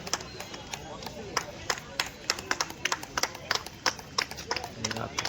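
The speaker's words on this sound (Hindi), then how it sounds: "कृपया जोरदार तालियों से स्वागत अभिवादन" An audience at an Indian flag-hoisting ceremony gives scattered, uneven handclaps to welcome guests. The claps come in irregular bursts mixed with voices talking.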